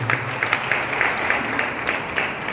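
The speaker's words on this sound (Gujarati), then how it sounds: "જોરદાર તાળી વગાડો" An audience at a Lions Club officers' installation function in Viramgam claps in steady, moderately loud applause, with no talking over it.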